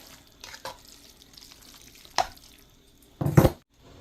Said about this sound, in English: maybe just a little splash of water,